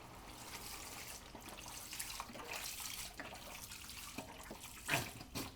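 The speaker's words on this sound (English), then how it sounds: "Going to add my vegetable broth." Vegetable broth is poured into a soup pot of broccoli and peas, a quiet, steady liquid rush with a few small splashes and knocks near the end.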